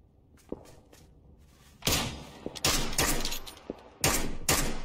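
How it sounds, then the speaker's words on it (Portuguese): Gunfire in a shooter video game: a few sharp isolated shots, then loud close bursts of rapid fire in clustered volleys with short gaps between them. "Deram uns 3 tiros nele de acertar o último nele"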